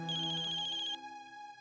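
A telephone ringing with a bright electronic tone, loud and close, a sustained ring that cuts off and changes to a steadier tone before ending.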